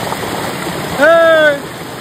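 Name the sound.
mountain waterfall flowing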